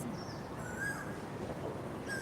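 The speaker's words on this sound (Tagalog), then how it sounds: "Naririnig niyo yung huni ng ibon" Faint bird calls drift in from a distance over a steady outdoor hiss, a few thin whistling notes spread out.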